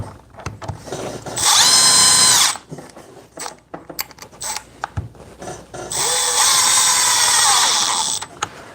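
DeWalt DCF870 impact driver running in two loud, close bursts, each a couple of seconds long, with a short quieter gap between them and no talking.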